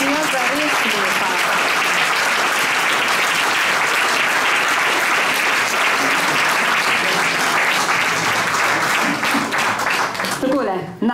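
Sustained, dense audience applause fills the hall at a 40th anniversary celebration of a regional crafts and business chamber in Nova Gorica, loud and steady for about ten seconds before thinning out, with voices faintly underneath.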